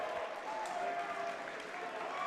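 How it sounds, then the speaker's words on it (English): A crowd at a high school boys basketball game roars and cheers steadily, a dense, fairly close wash of applause and shouting that holds through the short stretch. "The crowd's getting loud."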